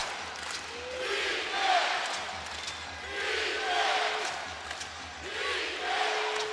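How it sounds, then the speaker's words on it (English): Crowd on its feet cheering in a basketball arena during an NBA game between the Nuggets and Grizzlies, a loud sustained roar that swells in waves under faint commentary. "Crowd on its feet."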